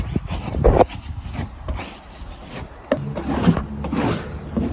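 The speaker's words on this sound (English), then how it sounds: "So we're going to just scrape all this off." Unset body filler is scraped off a 1986 VK Commodore's panel, producing rough intermittent rasping strokes at close range, with a few sharper knocks between scrapes.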